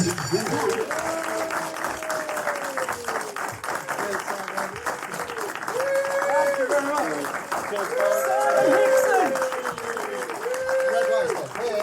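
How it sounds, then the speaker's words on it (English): Sustained applause from a live show audience fills the whole stretch, dense clapping with a voice talking over it and some swelling cheers. "save that world of applause for Mr. Simon Hickson."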